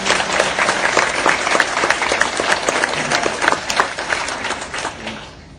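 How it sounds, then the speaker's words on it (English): A luncheon audience gives a full round of applause, dense and lively clapping with scattered louder claps, fading out toward the end. "So let's give them a round of applause for what they did."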